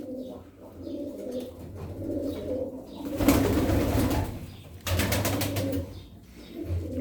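Tumbler pigeons coo in low, throaty murmurs, with a burst of flapping wings partway through and a second rustle of wings near the end.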